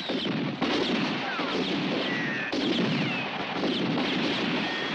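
Gunfire in a Western action film shootout, a dense continuous barrage of shots and blasts with shouting voices mixed in throughout.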